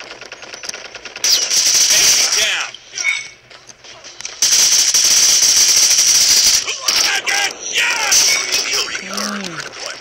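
Rapid bursts of automatic gunfire from Call of Duty, loud and sustained in long stretches with brief pauses, with talking in between.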